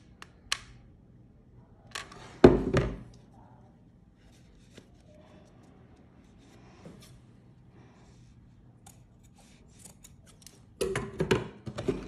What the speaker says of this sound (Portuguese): Cortei uma tira bordada de 30 centímetros